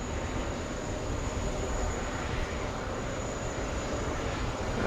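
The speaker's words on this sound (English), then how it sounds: "There's the touchdown for the Dreamliner. 787-10." A Boeing 787-10 Dreamliner touches down at JFK, a steady, fairly faint broadband roar of engines and rolling tires holding evenly throughout, with a thin high whine above and no voices.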